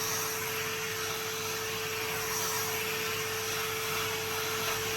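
A Henry Hoover vacuum cleaner runs steadily nearby with a constant whining motor drone and a thin tonal hum, unbroken for the whole stretch, with no speech.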